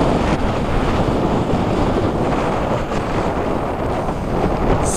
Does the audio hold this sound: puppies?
no